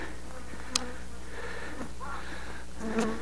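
Bees buzz around a ruined, abandoned village, a faint steady drone under a noisy background with a couple of brief louder passes nearby.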